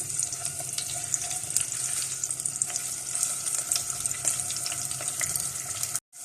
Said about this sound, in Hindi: और लहसुन डाल देंगे इसके अंदर। हल्का सा इसको सौते करेंगे।